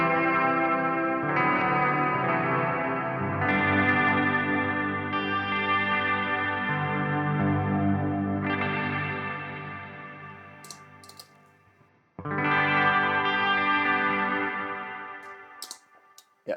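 Electric guitar through a Strymon BigSky hall reverb with modulation, sustained chords swelling into a lush, shimmering wash that decays slowly, then a fresh strum rings out and fades, with no voices.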